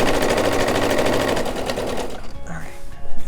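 A sewing machine stitching outdoor pillow fabric runs in a fast, even rattling burst, then stops partway through, leaving quieter handling noises and a brief spoken word.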